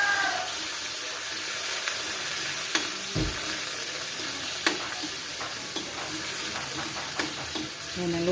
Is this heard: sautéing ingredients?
yes